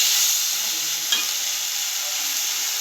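Tomatoes and curry leaves sizzle steadily in hot oil as they are stirred, a close continuous frying hiss with a brief scrape of the spoon partway through and no voices.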